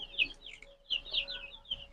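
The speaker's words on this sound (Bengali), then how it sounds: "এই যে দেখেন মুরগি" A chicken clucks in a run of short, chirpy calls, with a brief pause near the middle before the calls resume at moderate volume, with no talk.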